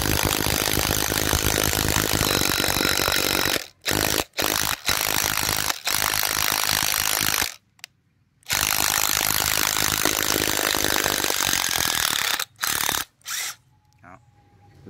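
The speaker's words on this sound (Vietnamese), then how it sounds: "Em sẽ test máy cho anh em thử bắn con vít gỗ dài này." A Makita DTD152 impact driver drives a long wood screw into wood with loud, rapid hammering bursts, stopping and starting several times before falling quiet near the end.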